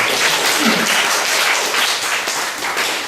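A church congregation gives steady, dense applause that fills the room, loud and continuous with many hands clapping at once, easing slightly toward the end.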